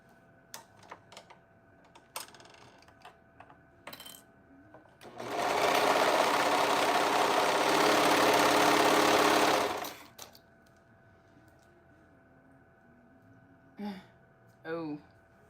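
A serger sewing machine runs in one steady, loud burst of about five seconds, with scattered clicks and handling noises before and after and a brief voice near the end.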